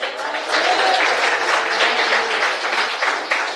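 A church congregation breaks into a burst of steady applause, many hands clapping together in a dense wash that holds for a few seconds at moderate distance.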